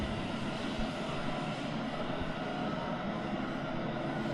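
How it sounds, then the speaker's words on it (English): A machine engine runs inside an underground Maginot Line fort at Schoenbourg. It makes a steady, loud, continuous drone with a low rumbling texture, heard alone without talk. "Yeah, it's got an engine running."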